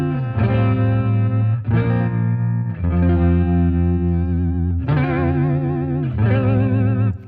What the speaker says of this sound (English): A really fast vibrato kind of gives it that warbly sound.